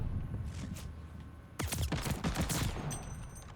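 Rapid gunfire in the Call of Duty: Vanguard video game, a steady burst of repeated shots that swells louder partway through, with no talking.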